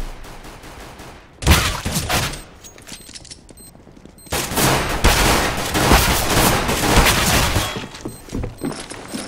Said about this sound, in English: He's too far away to burst fire like that.